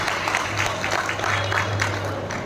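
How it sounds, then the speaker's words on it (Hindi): Loud, steady applause from an audience at a stage program by special-needs children, dense clapping filling the whole stretch with a low hum running beneath. "एक बार जोरदार तालियां।"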